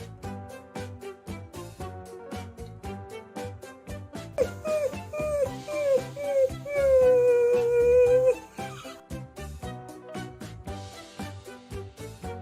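A puppy gives a run of high, wavering whimpers and a drawn-out howl-like cry over rhythmic background music, clearest in the middle of the stretch.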